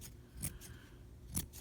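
Two quiet, crisp scissor snips trim the yarn of a pom pom, close up, spaced about a second apart with a soft background hiss between.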